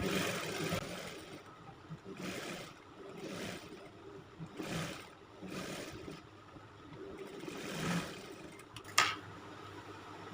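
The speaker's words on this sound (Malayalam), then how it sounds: "ലോങ് സ്റ്റിച്ചിട്ട് ഒന്ന് സ്റ്റിച്ച് ചെയ്ത് കൊടുക്കാം" Home sewing machine running a long stitch along a pleated nighty, a faint, steady mechanical whir in separate runs of a second or so with short pauses, plus a small click near the end; no voices.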